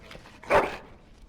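A dog in the video game Dragon Age: Origins gives a single short, loud bark in the middle, with quiet game ambience before and after.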